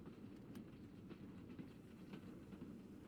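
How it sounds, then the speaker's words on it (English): A train sound effect plays during a tabletop game: a low, continuous rumble of a rail car with faint rhythmic clatter, steady and fairly quiet. No talk is heard. "I'm gonna play the track that I had for this train"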